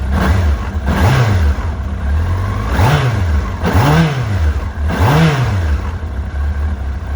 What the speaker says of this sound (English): Won't rev the nuts off it obviously because it's still cold